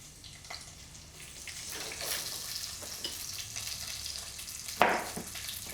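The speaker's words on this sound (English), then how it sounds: "Now I'm going to put the onions." Onions frying in a pan for a pig's trotters dish, a soft, steady sizzle with faint stirring and a sharp clatter near the end.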